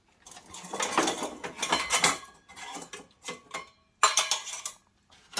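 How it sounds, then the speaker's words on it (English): Metal silverware and dishes clink and clatter inside a camp chuck box that also holds plates, cooking pots and cups, in several bursts of rattling with brief pauses between. "and obviously we need some silverware"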